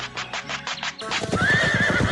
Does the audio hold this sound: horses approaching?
yes